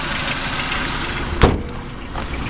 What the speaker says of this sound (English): it is a 4-cylinder engine currently running, so you can hear how well it runs.